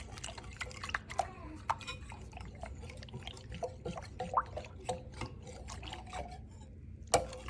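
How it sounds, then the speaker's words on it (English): A whisk stirs sourdough ingredients together in a bowl, producing faint, irregular clinks and wet taps against the sides in a loose rhythm, quiet and close, with a voice speaking softly underneath. "I'll take my whisk and I'll just mix it together"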